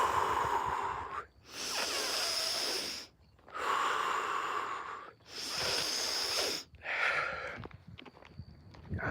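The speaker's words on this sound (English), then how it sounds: "Breathe out through, exhale through deep breaths, and inhale through the nose, exhale through the mouth." Heavy breathing of a runner during a cross-country style run, four long loud noisy breaths in and out through the nose with short gaps, close to the mic, plus faint footsteps and no speech.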